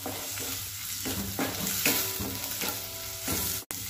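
Green chillies and crushed peanuts are sautéed in a pan for papad chutney, a close, steady sizzle broken by repeated spoon scrapes and stirring strokes, with a sharp knock near the end and no speech.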